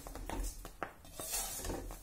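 Wheat grains roasting in a pan make a faint dry rustling and shuffling as they are stirred, with soft scrapes in an uneven rhythm and no talking.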